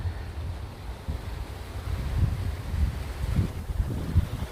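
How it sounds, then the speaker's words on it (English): Strong wind from Hurricane Dorian in Orlando roars steadily with rumbling gusts buffeting the microphone, swelling in intensity toward the end, with no voices. "It's still very windy."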